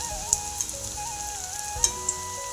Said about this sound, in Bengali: সর্ষের তেল দিয়ে ভাজি করে নিচ্ছি।